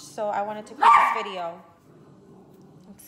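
Pet dogs bark indoors in a home while someone talks, a couple of sharp loud barks and yips rising over her voice before the sound settles into quiet room noise.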